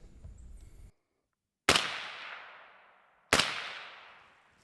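Suppressed short-barrelled rifle with a YHM integral upper and a newly installed lower, fired during a function test outdoors: two sharp, loud shots about one and a half seconds apart, each trailing off in a long decaying echo after a brief burst of noise and silence.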